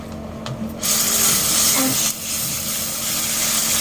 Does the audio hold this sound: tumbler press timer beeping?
no